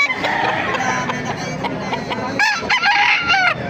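Caged gamefowl at a busy Baliuag market, among them kelso and sweater breeds, cluck and crow loudly and close by, with a chorus of overlapping calls and rising crows toward the end.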